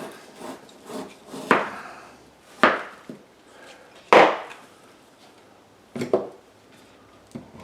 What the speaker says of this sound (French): Comme mon bœuf haché est gelé, alors je vais le couper en petits morceaux pour faciliter la cuisson